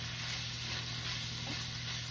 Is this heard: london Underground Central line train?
no